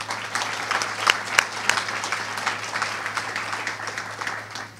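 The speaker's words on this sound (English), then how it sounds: "How about a round of applause for everyone for their work?" Audience applause at a tech and maker day keynote, many people clapping steadily with a few louder individual claps standing out, sustained throughout.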